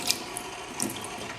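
A tap runs quietly while a makeup face shaper brush used for bronzer is wet under it, giving a steady, soft, close water hiss with a few faint splashes.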